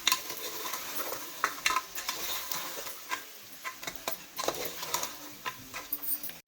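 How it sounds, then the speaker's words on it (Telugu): Mutton frying with chili powder in a pan makes a quiet sizzle. Irregular spoon scrapes and clinks from stirring come through, and no one talks. "ఒకసారి మంచిగా ఫ్రై అవుతుంది చూడండి"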